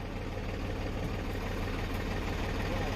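Farm tractor engine running steadily during a snowy roadside rescue after an accident, a continuous low idling rumble close by with no talk over it.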